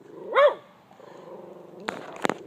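A dog lets out a short, high whine-like bark, then a low rumbling growl, followed by two sharp close barks.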